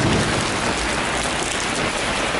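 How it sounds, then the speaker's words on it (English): Steady, dense rainfall pattering on a surface at the Sweden Rock Festival, continuous and fairly loud with no voices. "It started raining"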